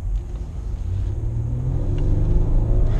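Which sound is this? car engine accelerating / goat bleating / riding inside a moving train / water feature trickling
car engine accelerating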